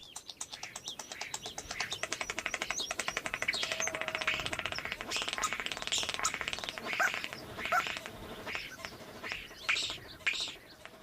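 A songbird's song mimicking an old two-stroke engine slowly starting up, a rapid run of mechanical-sounding pulses that quickens and then breaks into bright scattered chirps and whistles, fairly faint and alone.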